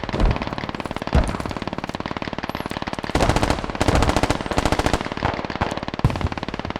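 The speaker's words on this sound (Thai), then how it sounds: "เสียงปืนอะ" Rapid bursts of automatic gunfire in the video game Squad, continuous and loud, with dense rattling volleys and brief pauses between runs.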